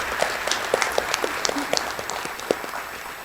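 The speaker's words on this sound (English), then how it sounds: "just a final round of applause" Audience applause at the Oshkosh State of the City 2023 address, a moderate round of individual claps from a room of people that gradually thins out.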